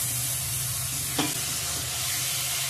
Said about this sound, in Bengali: তেল ছেড়ে দিয়েছে, ম্যারিনেট করা চিকেনটা দিয়ে দেবো এখন।